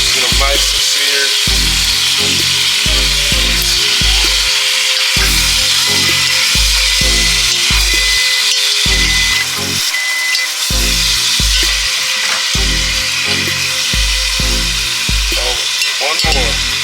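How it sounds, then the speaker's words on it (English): Birria meat flipped and seared in a hot pan: a loud, continuous close sizzle with repeated low thumps and scrapes as pieces are turned, no voices. "We're gonna flip them all over real quick, get them nice and seared."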